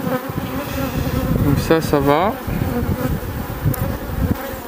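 Honeybees buzz continuously and close by at a hive, a swarm's drone with individual insects whining past, while a person says a few words in French partway through.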